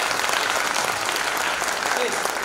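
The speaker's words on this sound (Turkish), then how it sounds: "ve alkışlıyoruz İlay Bey'i." Dense, continuous applause from an audience at a young writers' speaking event, a steady wash of many hands clapping at even loudness throughout, close and full.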